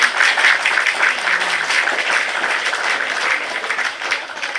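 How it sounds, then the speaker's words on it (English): Canned applause sound effect triggered by a push button, a steady wash of clapping and crowd noise that holds at an even level for several seconds with no voices over it. "if you want to clap, then we push the button"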